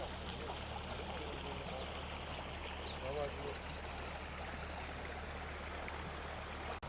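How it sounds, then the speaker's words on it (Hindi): Rainwater stream flowing through rainy mountains in the countryside outside Dubai, a steady, broad rushing and trickling of water that stays constant throughout, with a faint voice briefly in the background. "और ये पानी बह रहा है यहाँ से, और ये बारिशों का पानी है"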